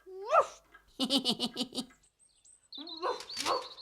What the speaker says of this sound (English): Is that Bumpy Dog?